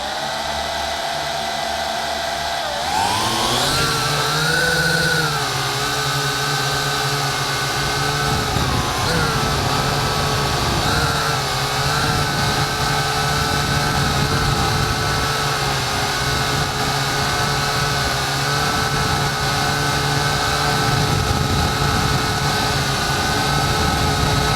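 A Syma X8HG toy quadcopter drone carrying an action camera on a GoPro-style mount spins up after a quiet start, then holds a loud, steady, close buzzing whine of motors and propellers that wavers slightly in pitch throughout.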